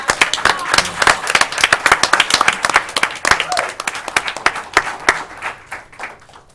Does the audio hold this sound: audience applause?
yes